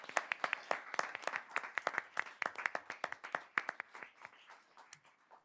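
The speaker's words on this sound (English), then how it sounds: "Ladies and gentlemen, a round of applause for our judges." A debate hall audience at a high school final gives a round of applause for the judges. Distinct individual claps ring out in a loose, sparse rhythm, moderately near, and thin out toward the end.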